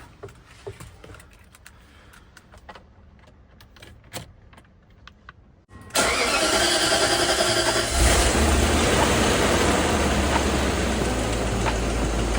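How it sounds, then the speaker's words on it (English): A 1990s-era BMW 740i sedan, newly fitted with a battery, cranks and fires after a few quiet seconds of small clicks and handling noises, then settles into a loud, steady idle outdoors on a windy day. "Let's see how she starts."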